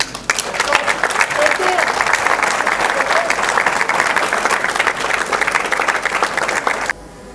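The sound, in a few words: crowd applauding at election rally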